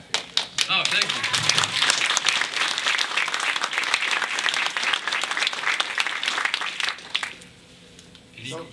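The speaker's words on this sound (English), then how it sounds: "let's clap here" Sustained audience applause after a talk at a WordPress conference session, dense and steady clapping for about seven seconds before dying away, with a few voices at the end.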